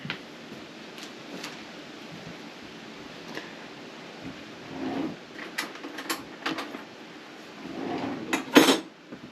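A knife chops fresh tomatoes for salsa on a cutting board in a home kitchen. Soft, irregular taps and clicks sound close and quiet, growing busier and louder toward the end.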